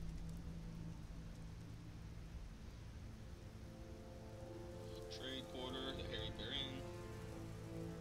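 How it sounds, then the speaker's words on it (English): Steady rain falls in The Witcher, a constant dense hiss of drops with a low rumble beneath, and a brief faint tonal chime rises over it midway. "Everyone runs undercover when it starts raining"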